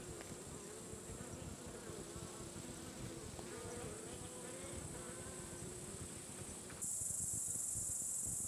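Honey bees buzzing around a hive frame of sealed honeycomb, a dense continuous droning hum close by, with a sudden brighter hiss joining near the end.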